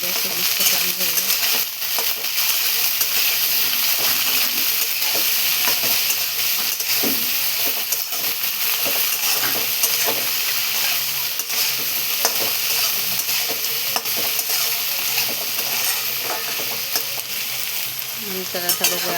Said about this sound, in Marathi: आता आपण सगळे भेंडी असे मिक्स करून घेऊया